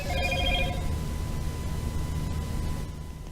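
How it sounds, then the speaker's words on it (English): A phone rings in a video game apartment, a repeating electronic bell tone over a steady hiss, clear at the start and then fading back behind the noise. "Why is my phone going off?"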